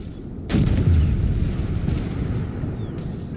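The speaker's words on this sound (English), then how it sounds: "what I'm shooting here is just those kinetic energy missiles" A single heavy cannon blast from the Griffin 120mm tank firing a kinetic energy missile in the game Armored Warfare, a sharp loud boom followed by a long rumbling roar that fades slowly, with a faint second thump near the end.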